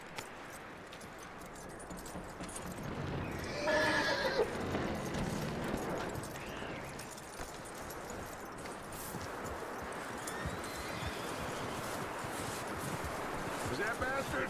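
Horse in the Red Dead Redemption 2 video game, with a clear whinny and steady clip-clop of hooves over outdoor ambience, and game characters talking at times.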